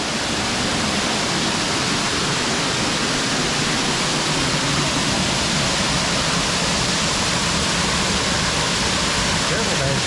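A Kentucky waterfall swollen after rain roars as a dense, steady broadband rush of falling water, loud and unchanging throughout with no other sounds standing out.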